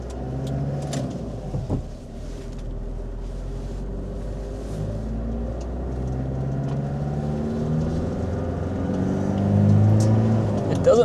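A 1998 Toyota Hiace Toyoace double-cab truck with a 3L diesel and 5-speed manual driving at around 50, its steady engine drone and road rumble filling the cabin, rising slightly toward the end.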